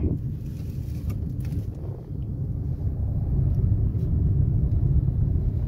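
A car pulling away in third gear on a single-lane road during a driving lesson, a steady low engine and road rumble that grows slightly louder and fuller toward the end, with no talk.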